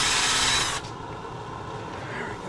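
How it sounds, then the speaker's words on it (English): Harbor Freight wire brush scrubbing parts of an 84-year-old Maytag Twin 72 engine, a loud harsh bristly scrubbing for under a second that cuts off abruptly and leaves faint low rustling and background noise. "Now we'll take our little Harbor Freight wire brush, and we're just going to come in here and give this all just a little bit of a cleaning."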